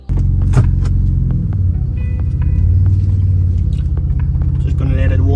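Cold Mercedes W203 engine idling while warming up, a steady low rumble close by with a few faint clicks and rattles over it, running without a break.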